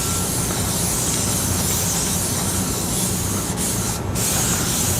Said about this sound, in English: And I guess spray it down.